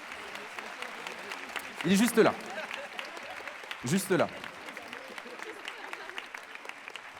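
A graduation ceremony audience claps in a steady, moderate wash of applause, while a voice speaks briefly over it twice, close and louder than the clapping.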